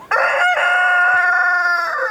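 A rooster crows loudly and close by in one long, sustained cock-a-doodle-doo call, with chickens kept for eggs and meat alongside ducks on a farm.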